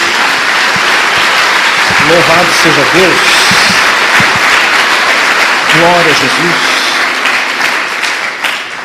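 A church congregation gives loud, sustained applause for nearly nine seconds, the dense clapping continuing while a voice calls out twice over it.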